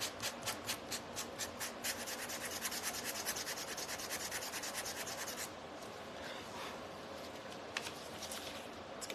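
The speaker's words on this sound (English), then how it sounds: "Go ahead and sand this." Hand sanding of a piece for lemon topiary shelf decor: a fast run of rhythmic rubbing strokes, followed by softer, irregular scraping, quiet and close.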